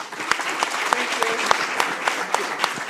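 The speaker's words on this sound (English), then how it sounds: "a round of applause for our moderator" Audience applause for the moderator at an international human rights congress at the University of Rzeszów, a steady wash of many hands clapping with a few sharper claps standing out and faint voices underneath.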